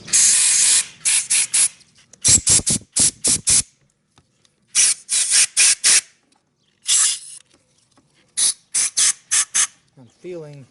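Compressed air blasted through the orifices of a Yamaha YZ426F motorcycle carburetor in a series of loud, close hissing bursts, some long and many short, separated by brief silences.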